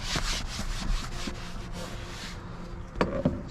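A soft brush scrubs a leather car seat with steady back-and-forth rubbing strokes, close and fairly quiet, ending with a couple of sharper knocks.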